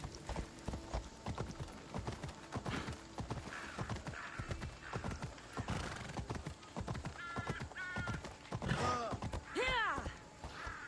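Hooves of the horse Phobos clip-clop at a gallop in Assassin's Creed Odyssey, a quick steady beat with neighs and whinnies breaking through, plus a few bird caws nearby.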